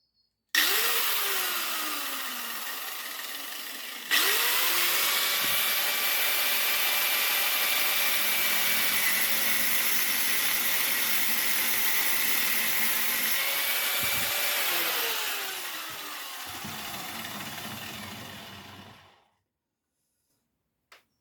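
An angle grinder fitted with a new cutting blade runs loud and close, whining steadily through a long continuous cut before spinning down to silence near the end.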